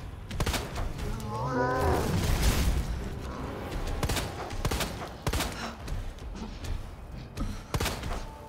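Rapid gunfire in Resident Evil 2 (2019), a string of sharp, loud shots in quick bursts with heavy thuds and booms between them, close and punchy over a low game rumble, with occasional talk underneath.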